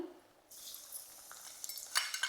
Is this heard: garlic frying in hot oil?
yes